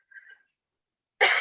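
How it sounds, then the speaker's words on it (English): A single short, sharp cough bursts out at the end after a faint brief sound and near silence, close and fairly loud. "I'm suffering from a cough that I got as soon as I took off the mask"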